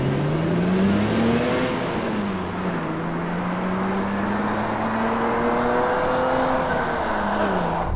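A BMW Z1 sports car engine hums and revs steadily from inside the cabin, pitch rising and falling as it drives.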